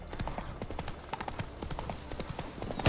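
Horse hooves clip-clop at a steady gallop in The Witcher 3, a quick rhythmic pattern of close, fairly loud hoofbeats running throughout with no talk.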